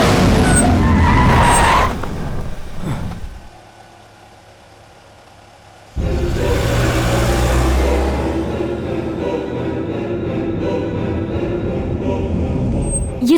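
A car drives past and skids with loud tyre noise, goes briefly quiet, then returns as loud engine and road roar.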